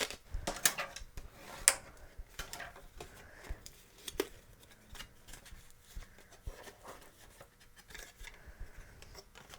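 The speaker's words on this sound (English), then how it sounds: "Again, we'll just fold that right in half." Paper card insert pieces for an extreme pop-up card being folded in half, giving close, crisp crackles and sharp creasing taps in irregular bursts, with no talking.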